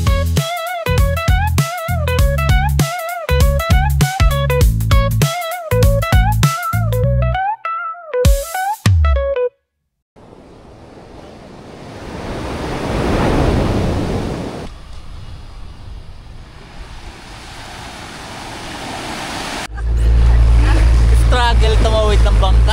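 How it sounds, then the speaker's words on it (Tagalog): Strong sea waves during a small boat crossing near Puerto Galera come after a stretch of music: rushing wind and surging water roar loudly. Near the end a low, steady motor rumble joins in. "Lakas ng alon"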